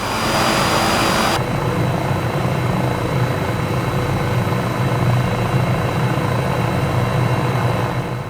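A Cowansim 500E helicopter in Microsoft Flight Simulator drones loudly and steadily from its turbine engine, with a thrumming rotor and a high whine that cuts out abruptly early on, and no one speaks.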